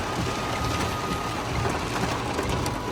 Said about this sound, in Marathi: कसला आवाज येतो गाडीच्या पावसाचा बघा ना,